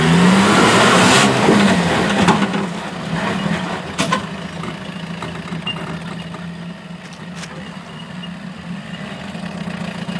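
4x4 off-road vehicle grinding up a difficult rocky line in first gear low range in the Watagans, Whitemans track, its engine droning steadily near and loud, strongest at the start then settling to a lower sustained labour.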